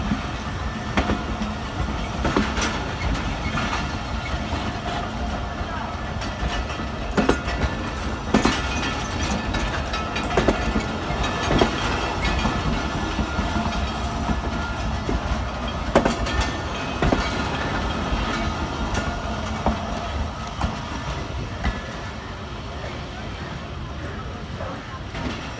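A fast train runs along the main line near Jhelum, Pakistan, its loud steady rumble and rhythmic wheel clatter filling the whole stretch, with sharper clanks and knocks breaking through as the cars roll past close by.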